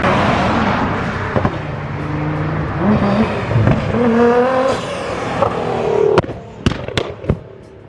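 A loud, roaring modified Nissan 370Z engine revs and changes pitch, ending with several sharp popping backfires close by.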